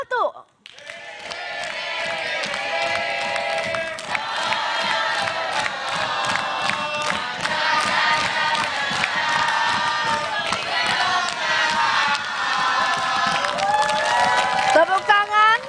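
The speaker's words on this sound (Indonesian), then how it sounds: "Boleh yel-yelnya bergantian ya, dari mulai pasangan calon nomor urut 1." Supporters of a candidate pair chant and cheer at a 2024 Jakarta gubernatorial debate, a loud rhythmic crowd yell with clapping beats and shouting that runs continuously after a brief opening.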